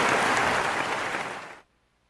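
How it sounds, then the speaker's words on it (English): Audience applause at a Christmas awards ceremony, a dense burst of clapping that holds steady and then cuts off abruptly, with no talk over it. "Can we have an applause also?"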